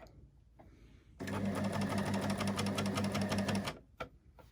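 Overlocker stitching steadily through three layers of fabric for a cosmetic bag, fitted with a piping foot: a loud, even mechanical whir running for a few seconds, then stopping, with faint handling sounds before and after.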